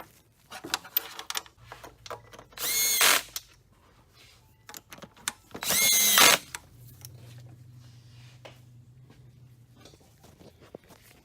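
A regular cordless drill drives intake manifold nuts on a 2.4L Hyundai Sonata Hybrid engine, giving two short, loud whirring bursts. Scattered metallic clicks and clanks of wrench work and parts fall between them, and a low hum sits underneath.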